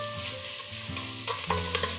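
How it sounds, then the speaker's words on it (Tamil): Ginger garlic paste sautéing in oil, a close steady sizzle with spoon stirring and scraping, a few louder stirs toward the end. "இப்ப இஞ்சி பூண்டு வதங்கிடுச்சு."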